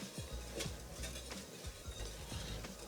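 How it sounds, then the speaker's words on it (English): Cold butter being stirred into a beef short rib sauce in a pan: soft, repeated scraping and swishing strokes with faint clinks, steady and close, with no talking. "we'll add them in a little bit at a time and stir them in"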